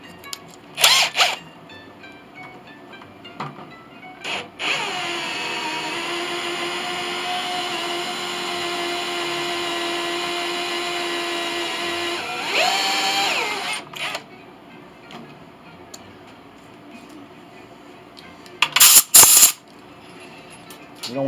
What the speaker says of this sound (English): fact, I like this drill a little better.